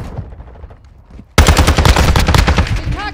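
Rapid automatic gunfire from the Call of Duty video game bursts in loud and sustained after a quieter opening stretch, with dense repeated shots close up.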